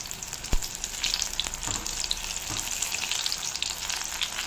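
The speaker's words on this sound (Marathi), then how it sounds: "दुसरी बाजू तळू देऊ" Food fries on its other side in a small amount of oil, giving a steady bubbling sizzle with a few sharp clicks and scrapes of stirring, close and fairly loud with no voices.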